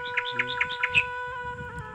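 Sharp, high bird chirps repeat about five times in quick rhythm, then fade into low background rumble.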